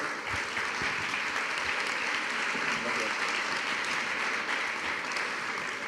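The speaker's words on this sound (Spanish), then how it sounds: "Un aplauso para todos ellos, por favor." Sustained audience applause at an Erasmus+ school education outreach event in Madrid, a steady dense wash of many hands clapping throughout, loud and unbroken with no voices rising above it.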